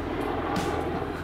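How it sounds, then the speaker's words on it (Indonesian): A Super Puma military helicopter of the Indonesian armed forces passing nearby, a steady low rotor and engine rumble with broadband roar, fairly loud and continuous throughout, with a slight swell midway. "dari tadi ada helikopter Super Puma-nya TNI nih."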